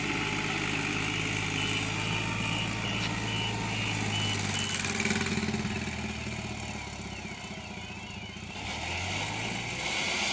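A tractor engine labors loudly and steadily while pulling a trolley loaded with ten thousand bricks, its drone shifting pitch slightly as it strains, with no voices over it.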